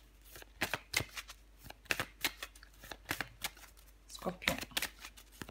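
Tarot cards are shuffled close up in quick, crisp riffling flicks and snaps in an irregular rhythm, while someone talks softly over them.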